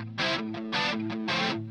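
An Enya Nova Go Sonic electric guitar plays through a modulation effect, sounding three sustained strummed chords in a steady rhythm, each swelling and shimmering, with no voices.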